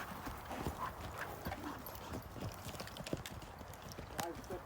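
Hooves of a mare clip-clop in a steady trot as she circles on a lunge rope with a saddle on, close and fairly clear, while a trainer talks over the rhythmic footfalls.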